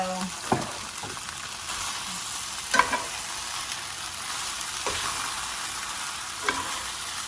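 Peppers and onions tossed in a hot frying pan for a pepper steak, sizzling steadily with several soft clacks and scrapes at irregular intervals, close and alone with no talk.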